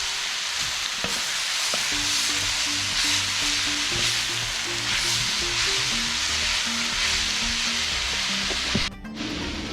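Pumpkin fries Guyanese-style in a pot, a steady close sizzle with occasional scrapes and clinks of a spoon stirring against the pot, no talking.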